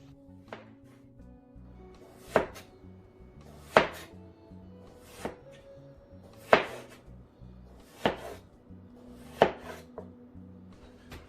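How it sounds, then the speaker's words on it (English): A knife chopping potatoes into chip-size pieces on a board, eight or so evenly spaced firm thunks about every second and a half, close and clear with no talking. "I am cutting up the potatoes into chip size"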